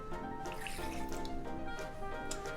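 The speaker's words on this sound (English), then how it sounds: "so I need a half cup of water" Water is poured into a saucepan as a cherry syrup is being made, giving a steady liquid splash and trickle that runs for about two and a half seconds at low volume, with no voices.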